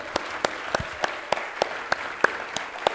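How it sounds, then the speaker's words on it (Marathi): Audience applause for Mandar Bharde at the VEDH Latur 2017 event, a steady round of hand clapping from a hall crowd with sharper individual claps standing out at a fairly even pace, no voices. "जोरदार टाळ्या मंदारसाठी होऊ देत"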